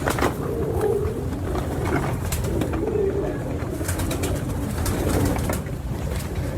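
Pigeons of a bred fancy stock coo in soft, repeated low throaty calls, several birds close by over a steady rustling background, with no voices.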